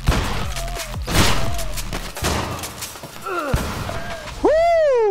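Shotgun blasts in the Hard Bullet VR game: several loud, close booming shots spaced irregularly, mixed with thuds and impact clatter, with a voice speaking briefly between them.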